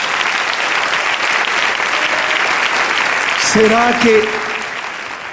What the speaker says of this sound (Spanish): Dale un aplauso al Rey en esta preciosa noche.